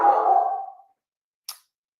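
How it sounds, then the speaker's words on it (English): A dog gives one drawn-out bark or whine, close and fairly loud, that fades over under a second, followed by a brief sharp click after a short silence. "He's barking at nothing. He's just barking."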